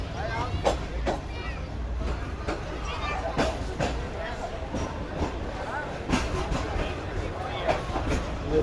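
The Allama Iqbal express passing alongside a moving train at Raiwind Junction: a continuous rumbling rush with rail clatter and periodic sharp knocks, mixed with indistinct voices nearby.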